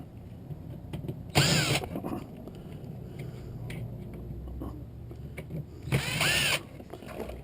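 An amplifier being taken apart, with two short whirring bursts of a powered screwdriver backing out screws, separated by quiet handling clicks and rustles at close range.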